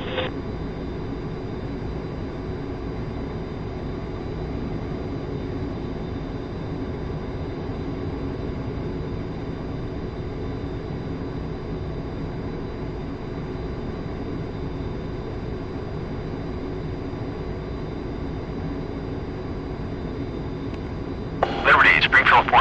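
An A-10C jet lands in the DCS flight simulator, a steady, droning engine hum that holds level for a long stretch before a brief louder burst near the end.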